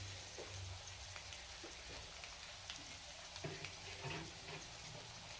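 Chekan shorma sizzles steadily in hot ghee in a pan, a dense, continuous frying hiss with faint pops and scrapes throughout.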